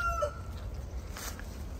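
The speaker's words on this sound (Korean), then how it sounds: "또 닭들이 이쪽에 모이죠." Farm chickens gathered nearby, with a brief rooster-like crow and clucking near the start over low background noise, fairly close and moderate in level.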